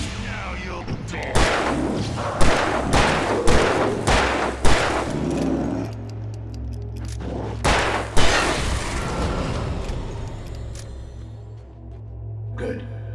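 Gunshots in Alan Wake Remastered, a run of sharp loud shots fired in irregular bursts, close and punchy, with speech heard between them and a low hum underneath.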